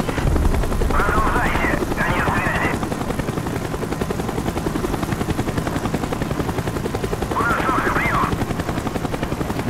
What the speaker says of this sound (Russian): Вертолет идет на второй заход.